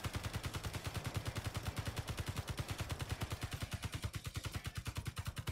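Rapid automatic gunfire from the Space Engineers video game, a steady fast stream of loud evenly spaced shots running the whole time with no talk over it.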